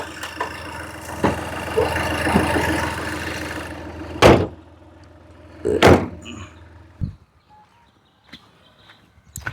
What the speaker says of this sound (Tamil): டிக்கி பாருங்க ஓப்பன் பண்ணுறது